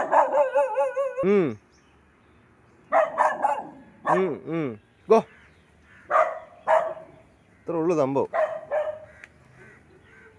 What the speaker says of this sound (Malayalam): പട്ടി പിന്നെയും കയറി വരുന്നുണ്ട്